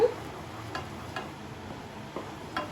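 Jaggery melts in a pan while a utensil stirs it, giving a soft steady sizzle broken by a few faint scraping taps against the pan.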